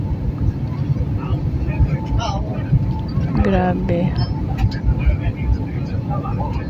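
Steady airplane cabin rumble and rushing air during a shaky, turbulent flight, a loud continuous drone with a person speaking briefly over it.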